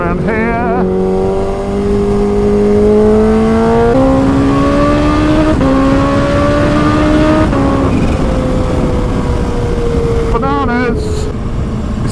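A Kawasaki Ninja H2 motorcycle revs hard and climbs through several gear shifts, its engine tone rising and stepping down between gears, loud and close, with a voice briefly heard near the end.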